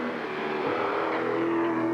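Peter Jackson Ford Falcon race car at the 1995 Bathurst Tooheys 1000 top ten shootout, its engine droning loud and close as the note climbs steadily under acceleration.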